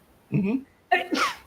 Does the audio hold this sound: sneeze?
yes